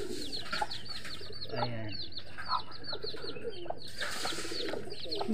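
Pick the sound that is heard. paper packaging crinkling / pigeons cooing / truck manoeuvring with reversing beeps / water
pigeons cooing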